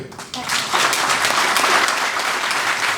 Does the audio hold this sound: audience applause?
yes